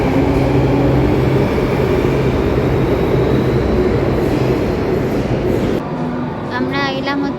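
A crowded Delhi metro train running at speed: a loud, steady rumble with rail noise filling the interior, easing as the train slows near the end, where a brief tonal chime or announcement sound appears.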